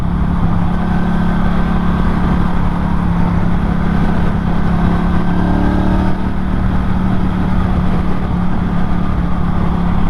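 A Norton Commando 961 SP motorcycle engine drones steadily while riding, a loud continuous low hum with wind rush and no spoken voices over it.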